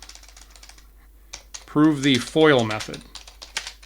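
Keys clatter on a computer keyboard in light, irregular taps throughout, partly under a stretch of clear talking in the middle.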